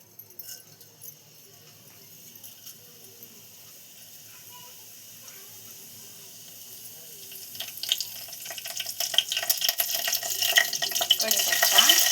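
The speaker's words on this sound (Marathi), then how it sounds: "हे मी तेल टाकलं आहे, त्यात टाकूया आपण थोडेसे जिरे" Cumin seeds sizzle in hot oil in a pan while cooking a green pea dal; a faint crackle swells into a loud, steady hiss over the last few seconds.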